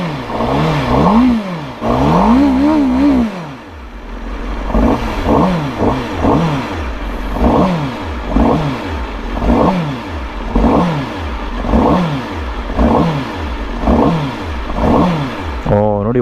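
A Honda CBR Fireblade sport motorcycle revs hard from close range, first in a couple of rapid rising blips, then in a long series of sharp throttle stabs that climb and drop again and again, loud and mechanical.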